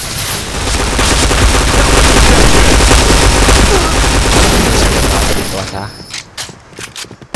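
Sustained, loud gunfire from a shooting video game, a dense fusillade of rapid shots that runs for about five seconds before breaking into a few scattered, fading bursts.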